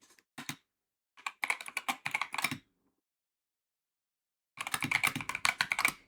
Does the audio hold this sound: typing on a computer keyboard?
yes